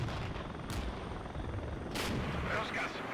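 Mortar and artillery fire in the video game Regiments, a Czechoslovak versus Canadian battle, booming in a dense continuous din of distant gunfire, with two sharper blasts cutting through the steady roar.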